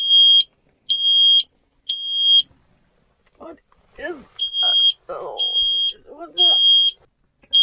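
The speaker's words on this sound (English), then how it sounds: "I thought, why is my alarm so loud?" A loud, high-pitched smoke alarm beeps in repeated bursts just after 2 a.m., with a person speaking between and over the later beeps.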